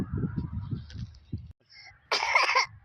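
A single harsh cough bursts out after a stretch of low, murmuring vocal sounds, short and fairly close.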